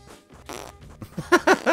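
A short squeaky fart, a few rising and falling pitched bursts that get louder toward the end, heard up close and alone.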